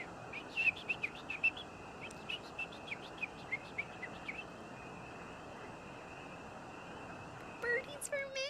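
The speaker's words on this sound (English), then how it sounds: "I look around me and take in all the tall trees and animal chirps." Birds in a video game forest chirp with repeated short tweets and calls over soft wind-like ambience, fairly faint and scattered, with a brief burst near the end.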